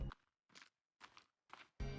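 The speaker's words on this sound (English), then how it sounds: "There's the sound of your footsteps," Footsteps in the VR survival horror game The Forest: four soft, evenly spaced crunching steps, close and quiet, with silence between them.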